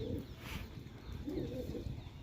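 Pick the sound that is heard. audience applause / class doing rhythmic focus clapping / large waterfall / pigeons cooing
pigeons cooing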